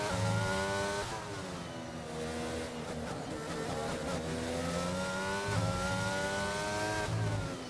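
A Williams F1 car engine in a racing game, heard on board as it screams steadily through the final turns of the Spain circuit, pitch rising and falling with gear changes, with a faint voice at times.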